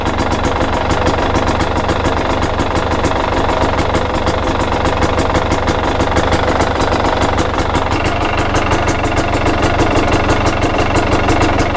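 Husqvarna, KTM or Gas Gas motorcycle engine fitted with a TSP ERM power kit idles steadily around 1450 rpm, a loud, even mechanical putter with constant vibration throughout, no voices.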